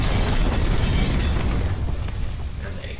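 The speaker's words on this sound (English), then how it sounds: "I'll show you one more time what it looks like with the explosion sound in there" A deep, loud explosion effect booms at once and rolls into a crackling rumble that slowly fades over three seconds, with no voices.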